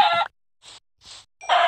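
Chicken clucking in Minecraft Pocket Edition survival, a few short synthetic clucks and squawks in bursts separated by brief silences, close and fairly loud.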